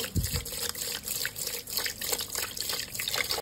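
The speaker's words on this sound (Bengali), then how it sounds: "আমি তো চাল ভালো করে ধুয়ে নিয়েছি" Gobindobhog rice is washed by hand in water, a close, continuous swishing and splashing with small drips throughout.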